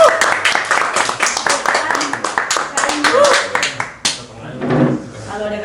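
An audience claps to welcome the founders of the TEMA Gunadarma theater group as they enter, a dense burst of applause with voices mixed in, fading near the end.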